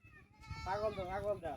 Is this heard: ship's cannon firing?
no